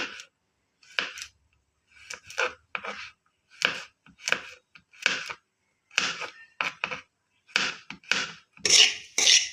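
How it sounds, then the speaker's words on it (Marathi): A knife chops almonds on a board in quick, close bursts of crisp taps, grouped in short clusters separated by brief gaps, with no speech. "आपला रवा तिकडे भाजतोय तोपर्यंत मी हे बदाम कापून घेते"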